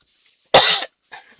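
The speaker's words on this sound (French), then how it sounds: "je tousse" A single harsh cough close up, followed by a softer throat-clearing sound, with quiet hiss between.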